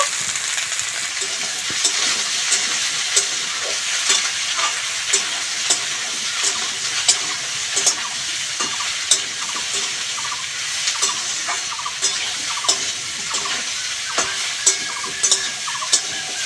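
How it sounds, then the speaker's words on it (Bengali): Okra fries in a pan with a continuous close sizzle, broken by frequent clicks and scrapes of stirring throughout. "ভালো করে আবারও ভেজে নেব"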